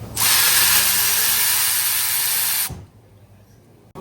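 A power tool spins out an 8 mm bolt on top of the differential of a 2025 Ford Bronco during a lift kit install, giving a loud, steady, hissing whir for about two and a half seconds that then cuts off abruptly.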